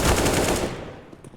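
A rapid, loud burst of automatic gunfire in the game CS:GO rattles for about half a second, then fades into quieter game noise with a faint late crack.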